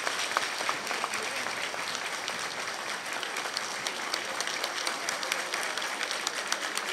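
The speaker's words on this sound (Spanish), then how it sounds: "darle un aplauso fuerte a Luis Abinader" An audience at a trade union gathering applauds Luis Abinader with a dense, steady round of clapping that holds at an even level throughout, with no voices on top.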